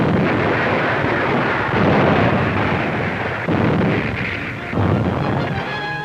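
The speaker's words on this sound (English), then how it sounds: "The Savannah's heroic men continue to shell the beach" Naval artillery from the cruiser Savannah pounds a beach in 1943, heard as a continuous, loud, rumbling roar with repeated heavy surges, dense and unbroken like old wartime newsreel sound.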